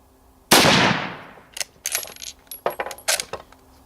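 A single loud, close rifle shot from a restored 1918 BSA Lee-Enfield No.1 Mk.3 cracks out with a long decaying echo, followed by several sharp metallic clacks of the bolt being worked.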